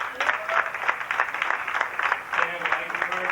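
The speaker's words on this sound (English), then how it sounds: "will we have a nice round of applause for these gentlemen." Audience applause fills a VFW hall at a 1990 high school football banquet in Norwich, NY, a steady dense patter of clapping that runs continuously with a voice speaking over it.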